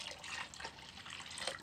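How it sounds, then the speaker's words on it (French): Water is poured over grains while making baobab juice over a wood fire, a faint, steady splashing trickle that runs continuously for a moment, with no voices. "On verse encore l'eau."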